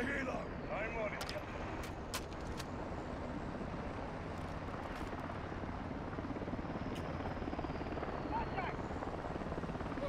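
Helicopter rotor thrum in the video game Modern Warfare II, a steady loud drone carrying through the whole stretch alongside gunfire-like crackles and scattered voices.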